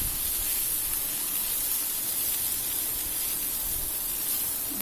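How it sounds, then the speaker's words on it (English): Rice is stirred into hot bhaji on a tawa for tawa pulao, giving a continuous close sizzling hiss with a faint, even scraping and no talking. "I've added the rice into the bhaji and I'm giving it a stir."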